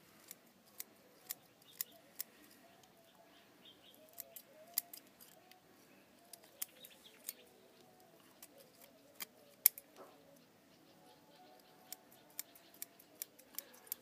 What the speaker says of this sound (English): This is just an ordinary pair of sharp scissors